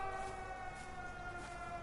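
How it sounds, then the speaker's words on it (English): An air raid siren sounds in the video game Everybody's Gone to the Rapture, a sustained wailing tone with rich harmonics, moderately faint and steady across the brief span, with no talk over it. "air raid siren"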